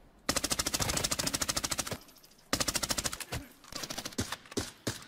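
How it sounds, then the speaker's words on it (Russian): Rapid automatic gunfire in the shooter game Arena Breakout: Infinite, loud close bursts of evenly spaced shots, a short pause, then another long burst followed by scattered single shots and impacts. "Блин, по мне стреляет."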